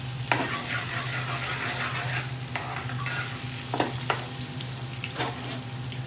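Vegetables for a chicken tikka jalfrezi fry and sizzle steadily in a pan, with a continuous close crackle broken by a few sharp clicks of stirring.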